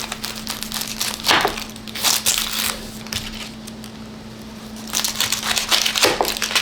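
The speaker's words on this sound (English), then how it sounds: "you're gonna cut both ends off the onion" A sharp knife slices through a red onion, with crisp crunching cuts in irregular bursts over a faint steady hum, close and moderately loud, no talk.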